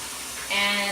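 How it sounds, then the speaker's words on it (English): Tap water hisses and splashes into a pot for chicken soup, a brief close spray that swells louder and brighter as the stream fills the vessel. "fill your pot with water"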